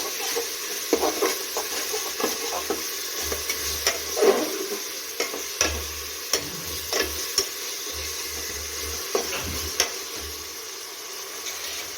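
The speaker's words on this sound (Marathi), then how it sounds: "तर आता टाकून घेऊया आपण आलं लसूण कोथिंबीरचं वाटण आणि छान असं फिरवून घेऊया" A spoon stirs ginger, garlic and coriander paste into fried onion and tomato in a pan, giving steady scraping strokes over a soft sizzle, close and moderately loud with no talking.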